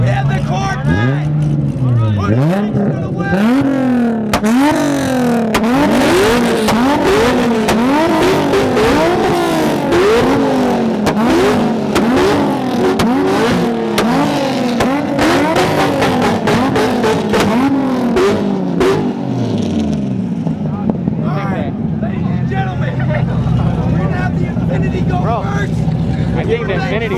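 A yellow Corvette revving at a car show: loud, close engine bursts climb and fall again and again in rapid rhythmic pulls, then settle into a rumbling idle, with people talking underneath.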